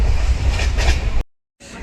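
A train rolls past at Kanakona railway station in Goa, a loud close rumble that cuts out abruptly mid-pass and then resumes briefly.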